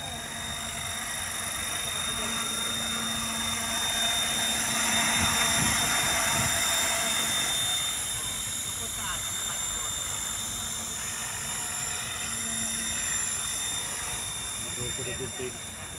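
A KDS 550 RC helicopter flies by over an open field, giving a steady high rotor whine with a hissing wash that swells slightly mid-pass, while distant voices murmur in the background.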